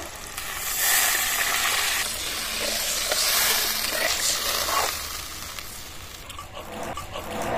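Green chili paste, turmeric, salt and water going into a hot pan of mustard-poppy bata fish masala produce a loud sizzle and hiss with stirring scrapes, surging as the liquid hits and settling slightly toward the end.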